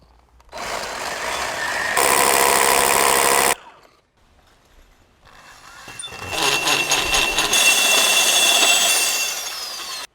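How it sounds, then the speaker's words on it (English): A core drill bores a 52mm diameter hole, giving loud, close, harsh grinding in two bursts separated by a short pause, the second building up and running to the end. "we've drilled the 52mm diameter hole"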